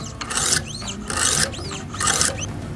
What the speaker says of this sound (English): we're gonna do 10 strokes on this side now